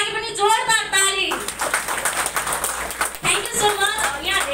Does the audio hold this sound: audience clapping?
yes